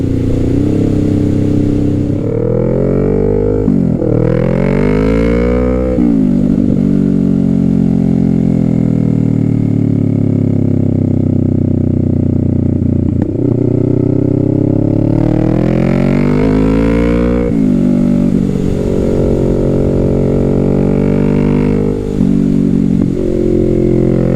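Kawasaki Z650 midsize motorcycle engine revving hard through repeated accelerations past about 4,000 RPM, loud and close, its pitch climbing, dipping at shifts and climbing again throughout.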